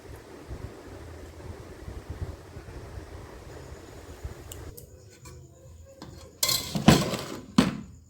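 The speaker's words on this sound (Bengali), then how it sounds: "এবার আমি সন্দেশ দিয়ে দেব প্রথমে বাটিতে।" Sandesh is spooned into small bowls for homemade ice cream: soft, quiet handling gives way to a few sharp, close clinks of utensil against bowl near the end, with no talking.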